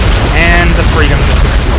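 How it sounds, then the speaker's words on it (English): A starship called Freedom blows apart in an audio-drama effect: a dense, loud roar of rumbling debris-like noise that holds steady across the moment, with voices speaking over it. "And the Freedom just exploded."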